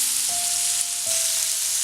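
Chicken fries in an iron pan with a steady close sizzle that fills the whole moment, a faint tonal whine running beneath and a soft scrape or stir partway through.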